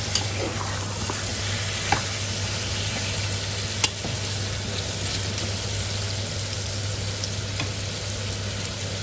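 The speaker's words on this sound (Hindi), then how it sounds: "तो इसी तरह से भूनेंगे," A large batch of chicken pieces, about one and a half kilograms for a Punjabi chicken pulao, fries in a pan with a constant close sizzle and a few faint clinks over a low steady hum.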